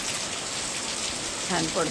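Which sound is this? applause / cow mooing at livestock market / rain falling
rain falling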